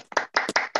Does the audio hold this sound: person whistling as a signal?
no